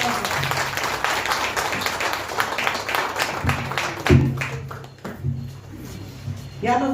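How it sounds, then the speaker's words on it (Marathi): An audience at a women's association's annual gathering in Satara applauds the prize winners with dense, steady clapping, while a voice talks over it and the clapping thins toward the end. "सगळ्या विजेत्यांच्यासाठी एक जोरदार टाळ्या"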